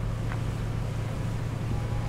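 A boat engine runs steadily at sea on a North Atlantic fishing trip, a constant low drone with wind rushing across the microphone and no talk.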